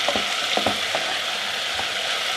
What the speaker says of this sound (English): I only fry the garlic for a very short time